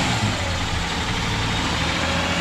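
A Ford Ranger's 4.0 V6 engine swapped in for a 2.8 V6, revving steadily and loud up close, a dense continuous engine roar that holds throughout.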